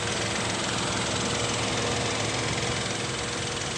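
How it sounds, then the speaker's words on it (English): Kia Picanto GT 2021 with a 1-litre three-cylinder turbo engine, running steadily at idle under an open hood, close and loud, a continuous even drone without speech. "this is the 1 litre 3-cylinder turbo engine"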